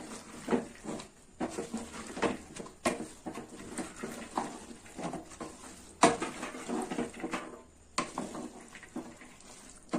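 Chicken and lentils are stirred in a metal cooking pot, a spoon scraping and clinking against the sides in irregular strokes, with a few sharper knocks and a faint sizzle underneath.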